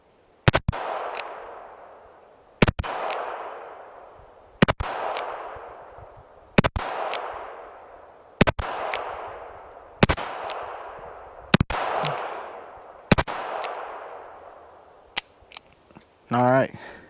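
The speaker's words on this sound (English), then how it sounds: "Let's run a couple more cylinders through this thing" A Charter Arms Target Pathfinder .22LR revolver fires nine sharp, loud shots at a slow, steady pace, each followed by a ringing outdoor echo, ending with a brief metallic clatter.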